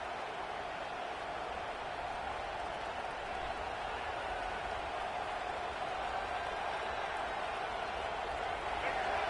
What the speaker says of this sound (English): The roar of the crowd trying to fuel this defense